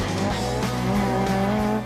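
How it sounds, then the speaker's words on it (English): A Mark I Ford Escort rally car with a 2-litre engine and roll cage slides sideways, its engine roaring loud and near with tyre squeal over a couple of seconds. "Paul's tool of choice, a Mark I Escort like ours, but with the 2-litre engine and a roll cage"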